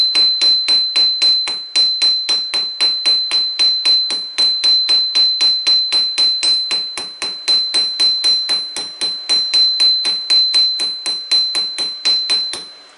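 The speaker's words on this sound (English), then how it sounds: "as I was hammering on the other side, it actually flattened this side against the anvil" Hammer forging a taper on an anvil, a long run of sharp, evenly spaced ringing metallic strikes, about four per second, with brief pauses between bursts and a sustained high anvil ring throughout.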